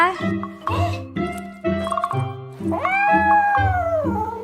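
An elderly pet cat meows in a drawn-out, rising cry near the end, with someone talking over most of the stretch beforehand.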